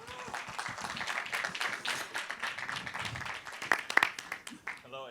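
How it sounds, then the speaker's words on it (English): An audience applauds winners of a telecom pitch challenge with steady, crowd-wide clapping that runs throughout, mixed with a voice speaking over it and a few sharper claps near the end. "a round of applause to the winners as well for having participated"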